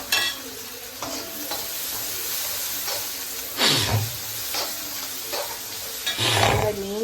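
Sliced onions fry with salt in a pan for a Kerala-style curry, a steady sizzle under repeated scraping stirs of a spoon, with louder clattering strokes near the end; no one speaks.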